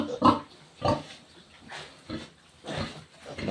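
Newborn pet piglets and grown pigs give a series of short grunts and squeals, about five bursts spaced roughly half a second to a second apart, fairly close and clear with no talking.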